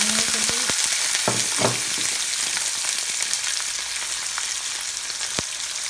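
Red, yellow and orange sweet peppers fry in hot oil in a pan, giving a loud, continuous close sizzle with a few sharp clicks and taps along the way.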